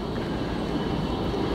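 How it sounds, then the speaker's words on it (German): A tram rolls through the Borbeck district of Essen, giving a steady, fairly loud broadband rumble of wheels on rail that holds evenly for the whole moment with no voices over it. "Fährt eine Tram"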